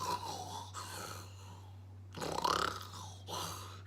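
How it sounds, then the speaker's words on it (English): A giant's snoring in a read-aloud Jack and the Beanstalk story, heard as slow, rough, growling breaths in two bursts over a low steady hum, with no talking. "His snores were like the sound of 100 growling bears."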